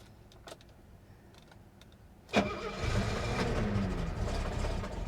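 Old Mercedes car engine cranking and catching after a quiet stretch with a few faint clicks, then settling into a loud, rough, steady idle.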